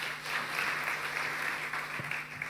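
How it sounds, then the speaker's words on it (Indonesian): A church congregation applauds during a Sunday sermon, a steady wash of many hands clapping at moderate volume that carries on evenly throughout, with a faint low hum underneath. "Tepuk tangan buat mereka."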